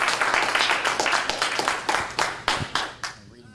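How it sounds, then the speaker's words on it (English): Audience applause at a talk on multiple sclerosis and cognitive issues, a short burst of scattered, uneven claps close by that thin out toward the end. "Let's give a round of applause and welcome Tricia Pagnotta."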